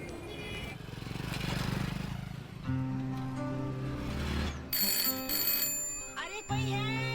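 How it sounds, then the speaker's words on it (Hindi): A telephone rings insistently in a Hindi romantic drama film scene, its repeated electronic trills sounding over background music and ambient noise before the ringing cuts off. "अरे कोई है, फोन तो उठाओ।"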